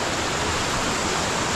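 The Tipacan river in Laguna flows steadily, a dense, loud rush of water close by with no breaks, alone without voices.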